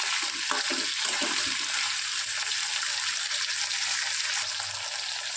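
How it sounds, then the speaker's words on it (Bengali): Crab curry frying in a pan gives a continuous close sizzle, while a few scraping stir strokes early on break through the crackle. "আবার একটু নাড়াচাড়া করে দিই।"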